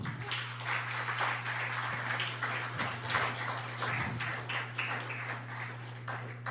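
A church congregation claps in a dense, sustained patter of many hands, fairly soft and reverberant over a low steady hum, lasting throughout.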